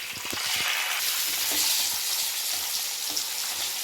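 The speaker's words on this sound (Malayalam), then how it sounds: "ഇനി നമുക്ക് ഓരോന്നായിട്ട് ഫ്രൈ ചെയ്തെടുക്കാം." Karimeen fish fry in a little oil with curry leaves in a Kerala-style pan, a steady close sizzle and spatter with a few soft stirring knocks near the start.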